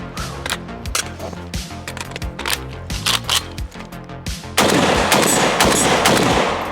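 A gun with reduced recoil fires a rapid string of sharp shots, close and loud, followed by a louder burst of continuous fire near the end.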